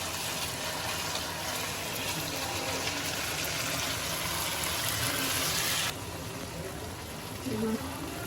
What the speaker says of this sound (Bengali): মাংসটা সিদ্ধ হওয়ার জন্য আমি গরম পানি ইউজ করবো।